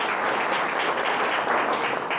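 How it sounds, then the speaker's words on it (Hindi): Audience clapping at a speech event, a dense continuous burst of loud applause throughout with no talking. "एक बार जोरदार ताली बजा दीजिए।"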